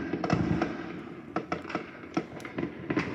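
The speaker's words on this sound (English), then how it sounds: "there's a lot of fireworks over there" New Year's Eve fireworks bursting in the distance, a rapid scatter of sharp cracks and pops at irregular intervals, with faint talk underneath.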